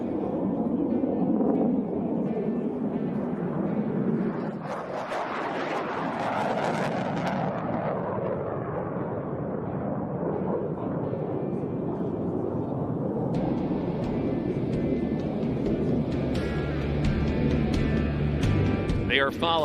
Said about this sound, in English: the F-16 Fighting Falcons, better known as the Vipers of the 64th Aggressor Squadron